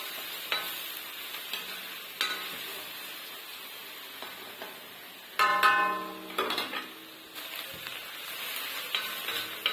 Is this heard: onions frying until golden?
yes